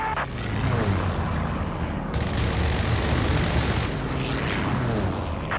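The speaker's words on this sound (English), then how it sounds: "P-47 ready to ruin Jerry's day. Strafe the target, dead ahead." A P-47 strafing run in Company of Heroes 3 pours out dense, sustained roaring gunfire and rumbling impacts. The noise is loud and continuous, and a sharper burst of fire cuts across the middle.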